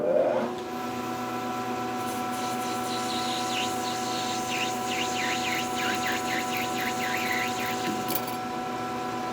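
Lathe parting off a machined wheel, part of a 6x48 belt sander's upper lift and tilt assembly: a steady motor hum with a high, wavering tool squeal that rises and falls as the cut proceeds, ending near the close.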